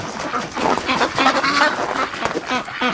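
Rouen ducks quack and chatter nearby in a short burst of repeated calls at -22°C, with splashing and farmyard noise and no one speaking.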